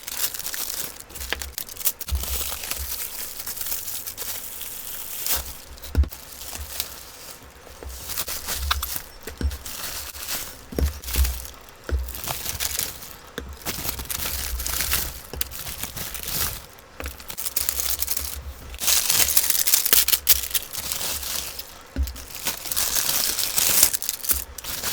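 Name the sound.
unwrapping sweets and packages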